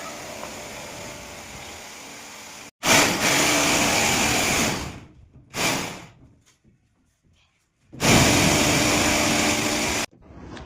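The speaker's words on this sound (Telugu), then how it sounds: "అయితే ఫస్ట్ మనమైతే డ్రిల్ వేసుకోవాలి" An electric drill bores into a ceiling to fit a fan hook, loud whirring bursts starting and stopping three times with silent gaps between runs.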